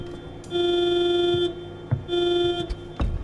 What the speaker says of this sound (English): Look at my Bluetooth honk button.